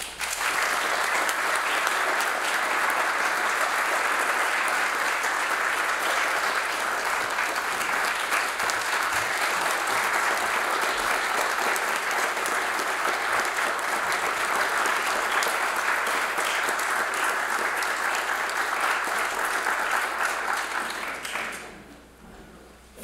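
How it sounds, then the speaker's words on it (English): A large audience at a symposium keynote address applauds steadily and loudly for about twenty seconds, a dense wash of clapping that fades out at the end. "I invite you to join me in a warm welcome and applause of thanks"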